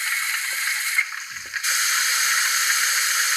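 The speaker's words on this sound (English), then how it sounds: "Blower." Steady, loud blower hiss from a Rapido OO gauge LNER Y7 model steam locomotive with DCC sound, dipping briefly near the start before resuming as an even, unbroken rush.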